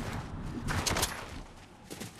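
Gunshots in Fortnite, a few faint, distant cracks in two short clusters against quiet background noise.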